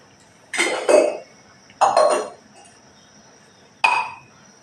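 Dishes and cooking pans clink while a long-unused pan is washed in a home kitchen, three separate bursts of clattering metal and crockery a second or so apart, close by, with quiet between them.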